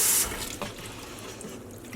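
Hand-painted acrylic yarn dyed with Rit liquid dye being rinsed in a sink, with a steady rush of running water and splashing that swells loud at the start and then settles into a continuous wash.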